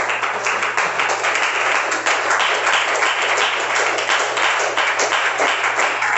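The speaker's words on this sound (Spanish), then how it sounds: "denle un aplauso al Señor Jesucristo" A church congregation applauds for Jesus Christ during a service, a loud, dense and continuous wall of clapping that holds steady throughout, with a low steady hum beneath.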